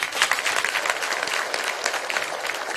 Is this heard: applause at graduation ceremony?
yes